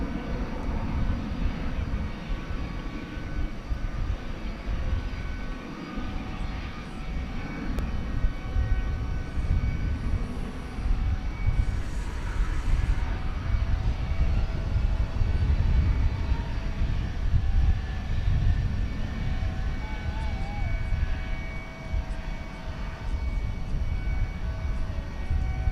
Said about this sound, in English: Another American Airlines plane going out there, Flight 2872 to Las Vegas. See if we can pick up on it. It's an Airbus A321.